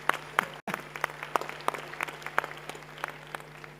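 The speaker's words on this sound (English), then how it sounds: "Yes, another round of applause, yeah." Audience at the 5th South Africa Investment Conference applauds a panel discussion with a thin, scattered round of clapping: distinct individual claps at an uneven pace, moderately distant, over a steady low hum.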